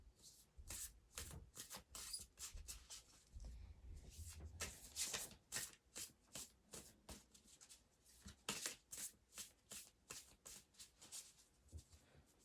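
A Starseed oracle card deck being shuffled close by, a steady run of crisp papery riffles and slides with short pauses between handfuls, no voices.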